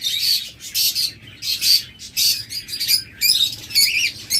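A pair of double factor spangle budgerigars chatter and squawk up close in quick, overlapping bursts of high chirps, calling continuously without pause.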